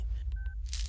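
A phone number is dialed with a quick run of a few DTMF keypad tones, close and clear over a low background hum, with no talking.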